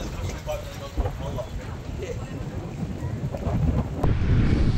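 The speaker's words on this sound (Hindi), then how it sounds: "इतनी मस्त ठंड हवा चल रही है" Cold wind gusting across the microphone on Cockatoo Island in Sydney, a rough, fluttering rumble that swells louder toward the end, with faint outdoor waterside noise and a voice speaking underneath.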